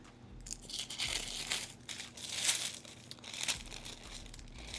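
Tissue paper crinkles in repeated rustling bursts as a package is unboxed, close and fairly quiet with short gaps between handling.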